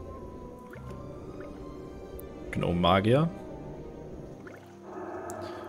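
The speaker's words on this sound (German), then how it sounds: "ich zauber mir mal kurz ein bisschen Wasser her." A gnome mage conjures water with a spell in World of Warcraft Classic Hardcore, giving soft bubbling, liquid swells and drips that rise near the end after a brief spoken phrase.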